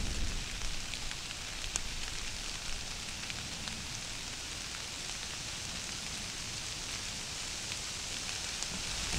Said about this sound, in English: sit and wait the rain out